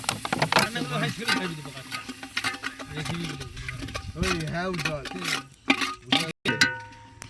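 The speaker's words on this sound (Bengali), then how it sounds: "এইবার আমাদের মশলা ফসলা সব ভাজা হয়েছে, রেডি।" Spice masala for handi chicken fries and is stirred in a pot, a steady sizzle with scraping and clanks running under close, continuous talk throughout.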